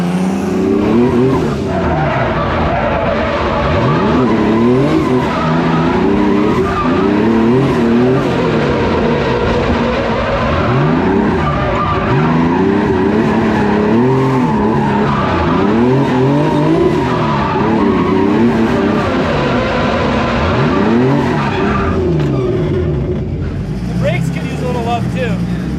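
A 10,000 RPM four-rotor Supra lapping hard, its engine screaming in rising and falling sweeps as the revs climb and drop, with tire squeal and skidding throughout, loud and close, and voices mixed in.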